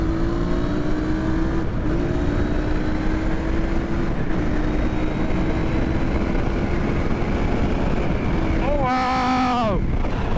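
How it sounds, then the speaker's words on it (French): A QJ Motor SRV550 motorcycle engine hums steadily while riding, its tone rising and falling with speed under heavy wind rush, with a brief higher revving sweep near the end. "Oh, ce petit son de moteur là,"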